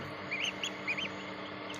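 Barbary (Muscovy) ducks at a duck breeding farm give a few short, soft calls over steady background noise, with no talking.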